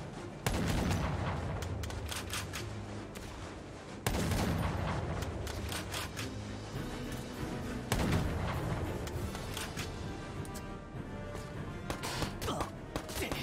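Heavy gunfire in the video game Valkyria Chronicles 4, three loud bursts of rapid shots, each opening with a sharp blast and trailing into a rolling rattle and echo, with brief talk in the background.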